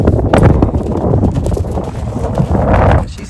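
Loose horses canter around nearby, their hooves drumming in quick irregular clip-clops over steady outdoor wind noise.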